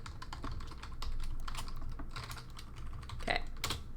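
Rapid computer keyboard typing during a Digimon Cyber Sleuth gaming session, a steady run of close, clicky keystrokes with a few louder taps near the end.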